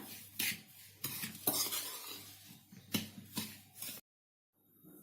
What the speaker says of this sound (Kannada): ಕಟ್ ಮಾಡಿ ಇಟ್ಟಿರೋಂಥ ಈರುಳ್ಳಿ ಹಸಿಮೆಣಸಿನಕಾಯಿ ಕರಿಬೇವು ಎಲ್ಲವನ್ನ ಒಂದ್ಸರಿ ಚೆನ್ನಾಗಿ ಮಿಕ್ಸ್ ಮಾಡ್ಕೊಳ್ಳೋಣ